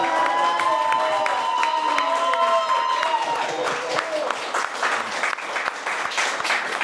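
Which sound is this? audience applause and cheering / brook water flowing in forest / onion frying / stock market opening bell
audience applause and cheering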